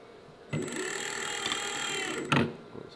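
A fishing line spooling machine winds line onto an electric offshore reel under set tension, giving a steady mechanical whir that starts abruptly, holds evenly for about two seconds, then stops with a brief louder burst.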